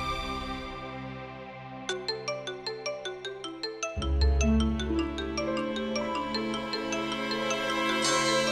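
Mobile phone ringtone sounding, a repeating melodic chime pattern that builds into a fuller musical tune, clear and steady with no talking.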